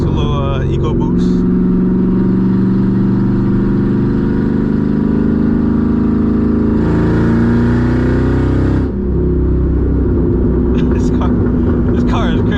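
A straight-piped 2007 Mustang GT V8 drones loudly during a drive, with strong steady engine tones that rise and fall as it revs and shifts, heard up close from inside the car.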